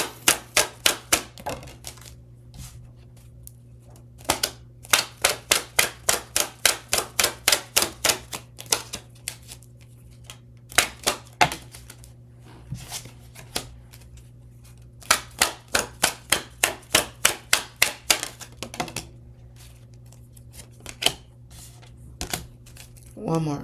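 A deck of tarot cards is shuffled by hand in quick runs of crisp, evenly spaced slapping clicks, several bursts separated by short pauses, close up over a low constant hum.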